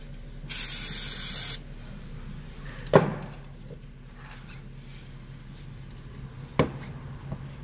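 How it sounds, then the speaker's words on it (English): Brake cleaner sprayed onto the front brakes of a Toyota RAV4 during a pad replacement, one loud close hiss of about a second, followed by quieter metallic knocks and taps from the work, with no talk. "Spray some cleaner."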